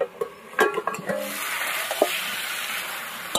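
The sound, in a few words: lid being taken off a cooking pot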